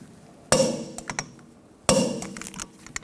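A new bolt on the rear hub of a 2006-2010 Volkswagen Jetta is torqued to 133 foot-pounds, giving two sharp, close metallic clicks about a second and a half apart, each with a short ringing decay.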